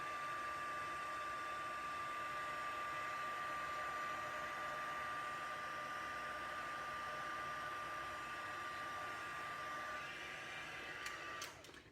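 Heat embossing tool blowing hot air over a card, a steady, even electric whir with a whistling tone, held continuously before cutting off near the end, no talking.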